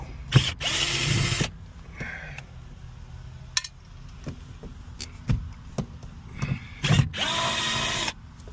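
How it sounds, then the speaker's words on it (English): A power drill backs screws out of the headliner of a classic Buick Park Avenue, giving several short, loud whirring bursts separated by quieter handling noises and faint clicks, close to the microphone. "Just start by taking these 3 screws out."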